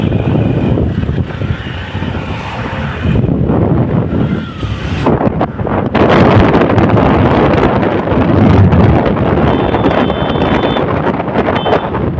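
Cold wind roars steadily against the microphone while riding a motorbike fast, a loud continuous buffeting with no voices.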